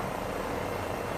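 Helicopter in Microsoft Flight Simulator 2024 flown with no door, a steady dense rotor and engine drone filling the short moment evenly, no voices.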